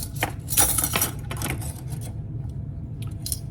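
A metal teaspoon clinks and scrapes against dishware while measuring pepper for a pretzel recipe, with several quick clustered taps early, then quieter intermittent chinks, close and fairly loud over a low room hum.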